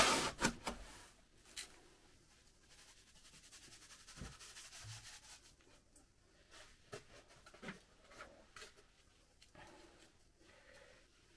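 Sand poured and spread over potatoes kept in a storage box, with dry scraping and rubbing, a few sharper knocks early on, then softer patchy grit sounds and no speech.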